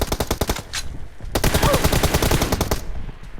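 Rapid automatic gunfire rattles in several close, loud bursts during a video game shooter match, with short gaps between volleys.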